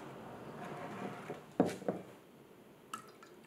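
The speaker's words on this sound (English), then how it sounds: "the pour test." Water pours from a handmade ceramic teapot, a soft trickling stream followed by a few close splashes and liquid squishes, then a brief drip near the end, heard quietly with no talk.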